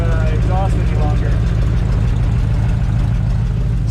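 Engine of a 1962 Chevrolet C10 pickup truck idling steadily, a continuous low rumble heard close up throughout with a faint voice near the start.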